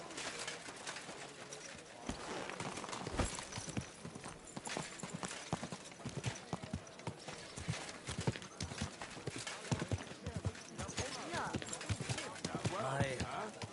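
Steady clip-clop of horse hooves on hard ground in the video game Kingdom Come: Deliverance II, continuous under a busy background of voices and ambient noise.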